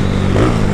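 Honda CB300 motorcycle engine revving up close, a loud, steady low-pitched roar with a slight rise partway through.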